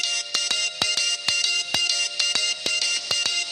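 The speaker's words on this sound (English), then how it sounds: "you can hear what your ringtone is on my phone" A mobile phone ringtone plays a repeating electronic melodic tune, bright sharp tones in a steady rhythmic pattern, loud and close, with no talking over it.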